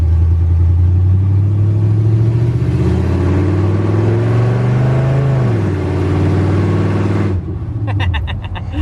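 A loud, deep 5.3 LS V8 engine in a 1987 Chevy 4x4 truck roars close by on open headers, its pitch climbing and falling as it revs, then cutting to a rougher idle at the end.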